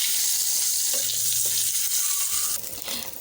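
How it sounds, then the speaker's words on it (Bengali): Two eggs, seasoned with salt and turmeric, frying in hot oil in a pan, a loud, close, steady sizzle with light stirring, no one speaking. "ডিমগুলোকে একটু ভেজে নেব"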